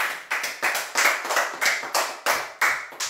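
A church congregation claps together in a steady, even rhythm of about three claps per second, loud and close, with no talk over it.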